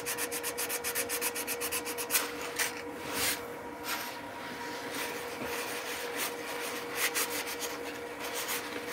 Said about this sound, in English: I'm just going to do a little bit of hand sanding.